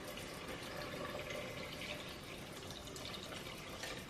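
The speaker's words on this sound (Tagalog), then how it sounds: "Maglagay ako ng tubig." Water poured into a cooking pan of boiled mung beans makes a steady, continuous splashing rush that lasts throughout at low volume.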